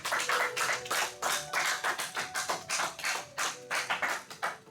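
A church congregation claps together in a steady rhythmic beat of sharp, fairly loud claps, with a sustained musical tone underneath and no voices standing out.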